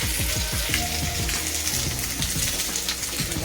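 Onions sizzling in hot oil in a kadhai with spices, tomato and green chilli, a steady close frying crackle throughout with faint stirring.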